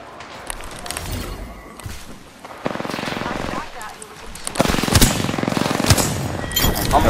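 Video game gunfire during a battle-royale style match, with bursts of rapid automatic shots, some sustained runs and loud cracks, heard up close over players talking throughout.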